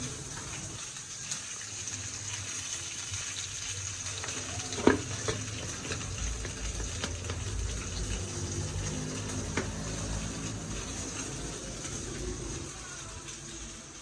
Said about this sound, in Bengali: আর এখানে জারি কচুর শাকের জন্য পেঁয়াজ রসুন ভাজা হচ্ছে, আর এদিকে মাছ ভাজা হচ্ছে।